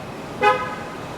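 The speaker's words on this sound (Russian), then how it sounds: "Ребята сигналят, хотя здесь пешеходные улицы" A single short car horn toot, clear and fairly near, rising briefly over a steady street background hum on a pedestrian street in New Orleans.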